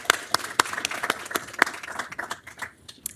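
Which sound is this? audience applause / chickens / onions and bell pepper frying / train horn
audience applause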